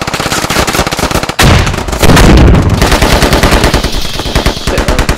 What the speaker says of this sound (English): We're taking fire from Raisins behind.